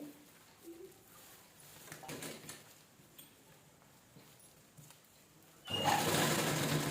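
A sewing machine stitching a zipper onto old sari fabric, with faint, intermittent mechanical whirring that ends in a loud, fast, continuous burst of stitching.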